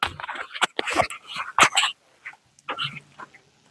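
A hunting dog yips and whimpers in short, sharp, close bursts with brief pauses, then fainter whines toward the end, with no one talking.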